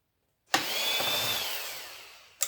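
Cordless drill backing screws out of scrap electronics: a sudden start, then a steady whirring motor run of about two seconds that slowly eases off, close and fairly loud, with a brief knock at the end.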